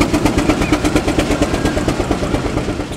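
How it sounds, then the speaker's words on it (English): A traction engine runs at a country show, giving a loud, close, regular chuffing beat of evenly spaced pulses that holds a steady rhythm from start to finish, with no talking. "Using your mobile phone whilst driving a traction engine."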